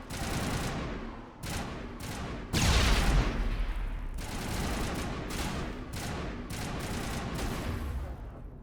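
Continuous gunfire bursts from a Mass Effect firefight, with a heavier blast around the third second suggesting a grenade explosion close by, rolling into steady volleys of shots without any talk.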